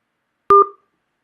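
A single short telephone keypad tone, one clear two-pitch beep heard alone against silence.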